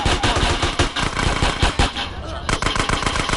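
Rapid automatic gunfire rattles in GTA San Andreas, loud bursts of machine-gun shots crackling over a busy game soundtrack, with a few brief pauses between volleys.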